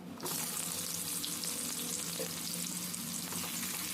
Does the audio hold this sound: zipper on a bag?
no